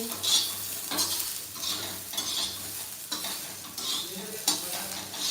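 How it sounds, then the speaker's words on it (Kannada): Onions sizzle while frying in a pan, stirred with repeated scraping strokes roughly every second and light utensil clinks, close and steady with no voices. "ಇವಾಗ ಈರುಳ್ಳಿ ಫ್ರೈ ಆಗಿದೆ"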